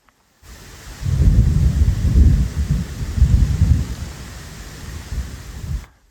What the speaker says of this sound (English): you can hear the thunder in the distance